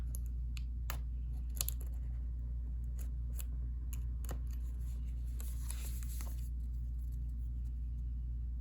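Scissors snip through the cardboard and plastic packaging of a Burn After Writing card deck, a handful of short crisp cuts and rustles up close, faint over a steady low room rumble.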